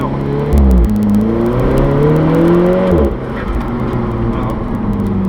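An Alfa Romeo 4C limited edition's four-cylinder engine and exhaust drone steadily while driving, heard from inside the car with windows closed, the pitch climbing through a gear then dropping after a shift.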